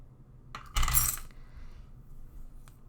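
Small metal charms clink and rattle together in a quick close handful, a brief bright jingle followed by faint soft handling.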